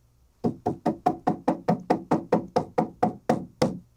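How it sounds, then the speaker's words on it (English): Fourteen even, hollow knocks in a steady quick rhythm, close and fairly loud, like knuckles rapping on a wooden door. "you do something I call knocking on the door"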